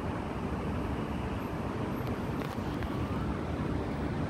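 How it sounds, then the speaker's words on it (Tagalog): Steady street traffic outside Dhoby Ghaut MRT station, a continuous low roar of passing vehicles with wind rumble, holding at an even level throughout with no talk. "Ito yung labas ng Dhoby Ghaut MRT."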